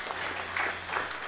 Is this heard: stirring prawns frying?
no